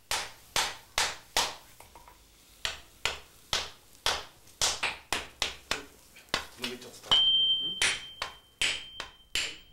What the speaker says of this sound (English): The commands of the swordsmith's hammer is all that is required.